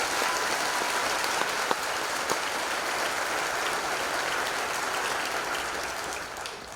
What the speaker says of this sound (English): Let's hit a round of applause for our band.